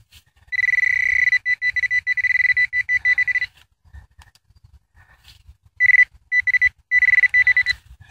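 Metal detector tones over hard, rocky ground where a zinc and copper penny signal lies buried: steady high-pitched warbling beeps in two bursts with a gap between, loud and close, with faint low rumbling underneath.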